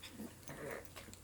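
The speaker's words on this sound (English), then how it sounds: "We got tons of dogs here. And they're all poodles." A poodle whimpers softly indoors, a few faint, close whines and breathy pants with no talk over them.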